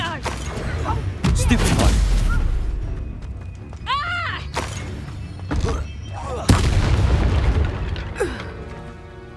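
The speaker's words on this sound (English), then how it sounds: "Confringo!" Confringo fire spell blasts go off in the Hogwarts Legacy video game, loud booming explosions that come in several separate bursts with crackling tails, mixed with whooshing magical effects and a voice shouting over the action.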